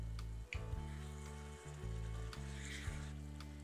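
Ground coriander, cumin and chili flakes sizzle in a karahi for chicken curry, making a faint steady fry under a strong low droning hum, with a few sharp clicks of stirring.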